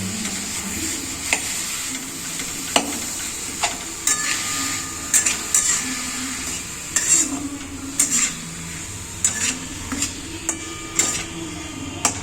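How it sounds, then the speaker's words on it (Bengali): Patishapta batter being stirred with a little added water, with a spoon scraping and tapping against the bowl in irregular clinks over a steady background hiss. "সামান্য জল দেব। এটাকে ভালো করে মিশিয়ে নেব।"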